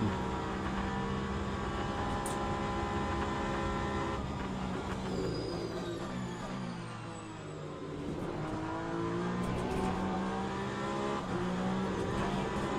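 Race car engines in a racing video game featuring Peugeots and Lamborghinis, a steady dense roar of several cars running together, loud and continuous with a brief dip midway and no talk.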